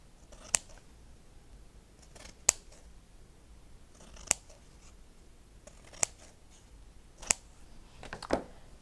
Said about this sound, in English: I'm going to cut a strip out, and I'm going to cut out triangles in there.